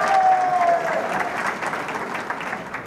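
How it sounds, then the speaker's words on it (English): Audience at an awards ceremony for teachers applauds steadily for about three seconds, a dense wash of clapping mixed with some crowd noise. "It is nice to hear the cheering, Kevin."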